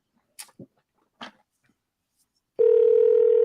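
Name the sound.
telephone ringing tone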